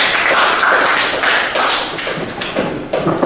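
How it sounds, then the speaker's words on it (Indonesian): Dense applause from an audience at a high school student council candidates' vision and mission presentation, steady and loud throughout with many overlapping claps and no break. "Mungkin kita bisa sekali lagi memberikan tepuk tangan yang baik."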